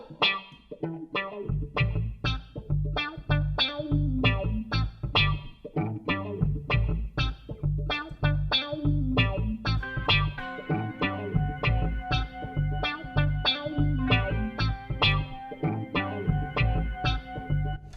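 A synthesized bass tone from a guitar through a Roland GR-55 guitar synthesizer plays a steady plucked pattern of repeated notes, clear and upfront with no voices.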